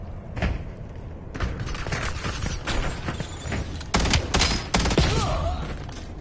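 Bursts of gunfire in the shooter game Black Ops 7, several loud, sharp clustered shots spread across the moment, close and punchy, with thuds and other game sounds between them.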